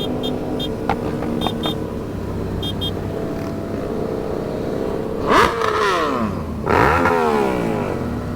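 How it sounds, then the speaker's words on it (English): A Kawasaki H2 sportbike at a motorcycle meet revs hard twice, each sharp rising and falling blast standing out over the background engine rumble and faint clinks. "Kawasaki doing his thing on his H2."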